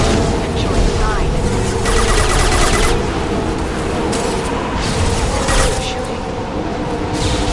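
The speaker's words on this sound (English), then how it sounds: "Shooting." Rapid bursts of video game gunfire rattle through a dense, busy mix, with a deep boom and mechanical clatter, and a voice talking over parts of it.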